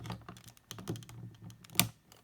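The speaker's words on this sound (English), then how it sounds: "When you hear a clicking noise, then that tells you when you got it in" Plastic clicks from toy handlebars snapping into a Cosmic Ghost Rider action figure, a scattered run of small sharp ticks with one louder snap near the end, close up and without talk.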